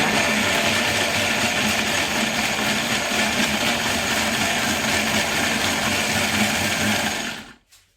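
A kitchen blender motor whirs loudly and steadily for about seven seconds while chopping large chunks of green Cheongyang chili peppers, then winds down and stops near the end.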